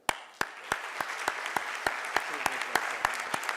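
A seminar audience in Brazil applauding at the end of a panel, a sharp opening clap followed by steady sustained clapping with regular louder beats, filling the hall.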